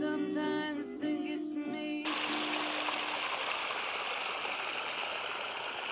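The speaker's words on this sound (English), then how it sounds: "Neat little beaver pond." Water trickling and flowing steadily at a beaver pond, an even close rushing wash that follows a few seconds of tonal sound at the start.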